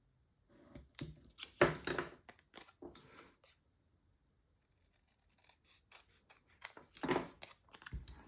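Scissors cutting a Graphic 45 cover sheet of patterned paper, a run of crisp close snips and rustles in two bursts separated by a quiet pause.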